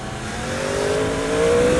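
Yamaha R1M sport motorcycle accelerating on the road, a steady engine note rising in pitch over a brief moment, close and fairly loud with wind rush, no talking.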